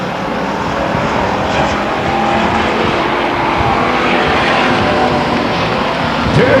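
Race cars at Stockton 99 Speedway working through the final turns toward the finish, a continuous loud roar of several engines mixed together with no let-up.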